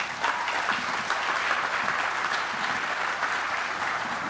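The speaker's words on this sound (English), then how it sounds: "Ladies and gentlemen, your applause, please, for Commissioner Robin Fisher." An audience at a Cape Canaveral announcement event gives sustained, dense applause for Commissioner Robin Fisher, steady clapping from many hands filling the room.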